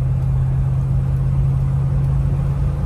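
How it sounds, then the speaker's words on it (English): A 1990 Jeep Grand Wagoneer engine idles through its original exhaust with a steady low rumble and hum, continuous and fairly loud, with no talking. "It's the original exhaust, and it's not too loud."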